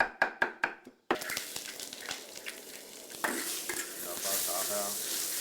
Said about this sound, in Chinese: 翻炒至5成熟